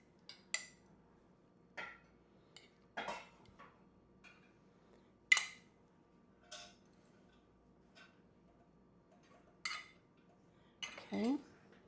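A spoon serving marinated tomatoes with mozzarella onto a plate: sparse, faint clinks and taps spaced a second or two apart in a quiet kitchen.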